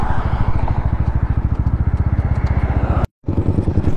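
A Yamaha R15 V3 motorcycle engine pulses with a fast, even, throbbing beat close by, cutting off abruptly for a moment before resuming.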